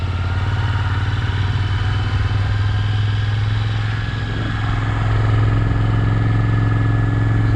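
A motorcycle rides along a curving hill road near Kasauli in Himachal, its engine giving a loud, steady, close drone with a constant low throb and a slight surge near the end, with no talk.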